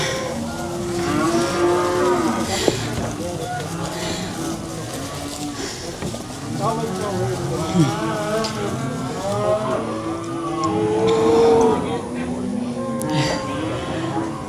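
Cows and calves mooing while being separated during a ranch roundup, many overlapping loud moos and bellows from close and farther off continuing throughout, with people talking underneath.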